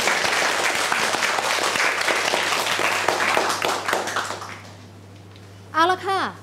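High school students in a Thai classroom applauding a classmate, a dense burst of clapping that fades out, then brief chatter and a short voice at the end.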